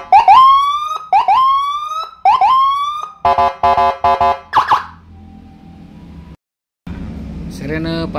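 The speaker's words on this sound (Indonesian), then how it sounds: "Sirene Patwal Custom IC Kit Valent Dozer ya." Custom police escort siren from a Valent Dozer IC kit driven by a 30-watt module into a 15-watt speaker, cycling loud rising wails, then a rapid pulsing yelp, then other tone patterns, close and alone with a brief silent gap.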